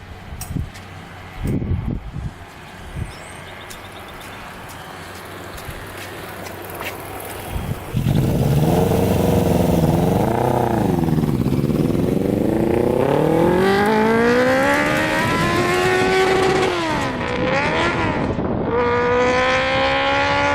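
A 100HP Yamaha Banshee quad ridden fast: after a few scattered knocks and bumps, the two-stroke engine roars in, revving hard and rising through gears with sweeping pitch changes, loud and close, wind rushing over it.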